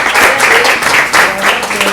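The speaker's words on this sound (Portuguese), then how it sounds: "Uma salva de palmas para o pensamento da senhora." Church congregation giving a round of applause, dense steady clapping from many hands filling the room loudly for the whole stretch.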